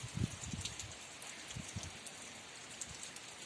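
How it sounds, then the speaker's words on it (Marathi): Light, fine rain falling on a field of chrysanthemum seedlings, a faint soft patter with scattered drop taps and gentle rustling of leaves, quiet and unbroken by talk. "पाऊस पडतोय बारीक बारीक चांगलाच"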